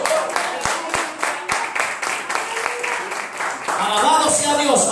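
A church congregation at a Pentecostal service claps loudly and steadily, the first few claps sharp and distinct before the clapping thickens, with voices calling out as it continues.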